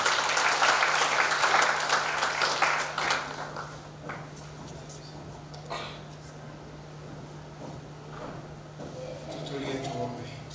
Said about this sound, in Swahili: tumpigie mchungaji wetu makofi